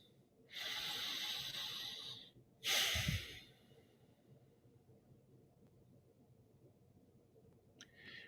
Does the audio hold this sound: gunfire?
no